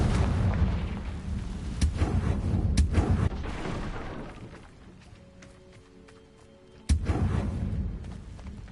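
A Confringo blasting spell explodes in Hogwarts Legacy combat, with several sharp blasts in quick succession, a lull with faint tonal ringing, then another loud burst that trails off into rumble.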